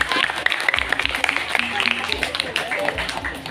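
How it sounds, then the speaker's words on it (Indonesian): Audience applauding for a student speaker at a school Isra' Mi'raj commemoration, a steady dense patter of many hands, fairly loud, with voices and crowd chatter mixed underneath. "Beri tepuk tangan untuk Mas Iqbal."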